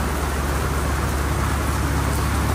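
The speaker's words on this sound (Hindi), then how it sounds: "बारिश हो रही है, मतलब शुक्र है हमने अपना कैनोपी सेट कर दी है" Rain drums steadily on a canopy at the Drift Matsuri drifting event, a dense, even hiss of drops with no breaks and no voices.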